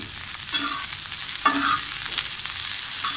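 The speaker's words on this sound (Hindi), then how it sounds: "सबसे पहले हम जो है भिंडी को फ्राई करेंगे" Okra (bhindi) fries in ghee on a tawa, a dense, loud, continuous sizzle up close with a couple of brief stirring scrapes, no voices.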